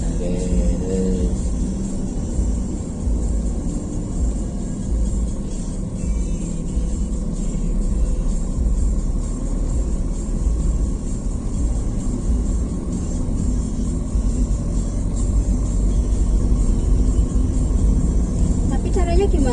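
A car rolls along steadily during a driving lesson, its engine and road noise forming a continuous rumble throughout, with people talking inside the cabin.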